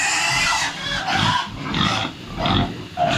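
Large farm pigs squeal and grunt in repeated loud, harsh bursts at close range on a small mountain farm, several calls in quick succession with brief dips between them.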